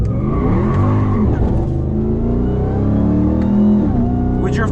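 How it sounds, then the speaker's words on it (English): Supercharged RAM TRX pickup, the Hellcat-engined stock truck, revving loudly and continuously up close while being driven hard, with tire noise and people talking over the engine throughout. "Listen to the supercharger."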